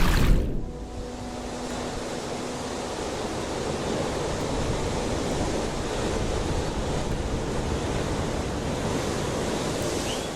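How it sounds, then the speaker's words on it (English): Large ocean waves crash at Acacos Beach in Acapulco, Mexico, opening with a loud surge and settling into a continuous heavy roar of surf that fills the whole clip. "Large waves slammed into the pools of the Valero and Galeon apartment complexes at Acacos Beach, Acapulco, Guerrero, Mexico."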